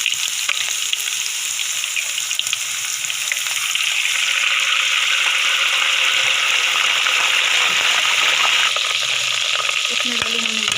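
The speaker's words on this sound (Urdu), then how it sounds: "ساتھ میں تھوڑا سا پانی ڈالیں گے۔" Onion and garlic masala fries loudly in ghee as a little water goes into the pan, a dense steady sizzle with stirring scrapes, ending with a few knocks and clinks of utensils.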